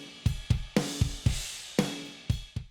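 A home drum kit captured through room mics in a basement studio, playing a short groove of punchy kick and snare hits with ringing cymbals that decay into the room, loud and close.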